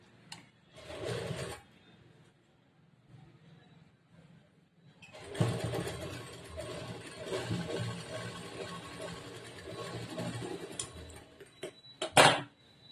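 Domestic sewing machine stitching a blouse, with a short burst of running near the start, then a longer steady stretch of motor hum and needle clatter, a sharp clack near the end.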